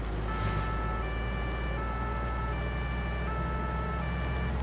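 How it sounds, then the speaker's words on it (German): A police car siren from a police mod in Farming Simulator 19 wails continuously and loudly, sitting steady over an engine hum with no talk. "Sirene funktioniert auch."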